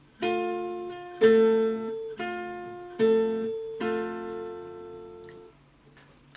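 Five separate guitar chords ring out on a chromatic guitar, each struck cleanly and left to decay, with one inner note standing out louder than the rest of the chord.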